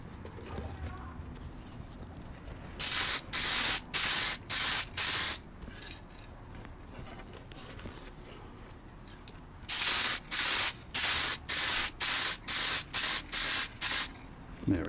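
Short bursts of aerosol spray paint hiss in two rapid series of about five and eight sprays, close and loud, as parts for a 1/24 scale DeLorean slot car are coated outdoors, with quiet background between series.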